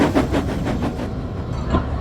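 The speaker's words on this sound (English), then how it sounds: "Soon, Dudley came puffing into the station." A toy-style steam engine train puffing into a station, heard as a steady rhythmic chugging and rail rumble that stays loud and close, with regular chuffs throughout and no voices.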